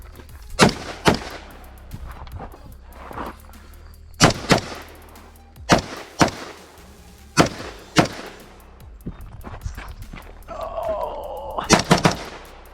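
Rifle shots on a 2-gun match stage crack out at uneven intervals as single and paired sharp reports, loud and close with echo off the bay, and a faint electronic beep near the end.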